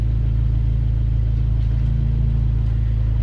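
A car shifted into drive and rolling slowly, its engine giving a steady, close, low hum with an even pulsing throb and no speech throughout.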